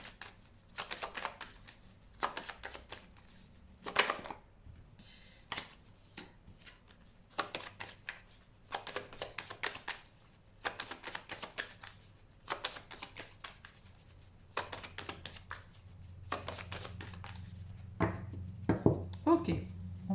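A deck of cards is shuffled again and again for a card reading: about a dozen crisp, close riffling bursts in a steady rhythm, with short pauses between them.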